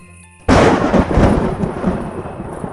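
A cartoon thunderstorm breaks in with a sudden loud crack of thunder, then rumbling and heavy rain continue and slowly fade.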